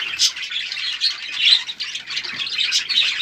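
Pet birds chirp and squawk near their nests, quick bright calls repeating in busy overlapping bursts, close and moderately loud.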